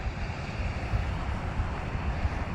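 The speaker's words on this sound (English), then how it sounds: "we've arrived at the Pacific Ocean" Ocean waves at the Pacific shore near Spanish Bay, a steady broadband wash of surf mixed with wind rumble against the microphone, continuous and fairly loud with no speech.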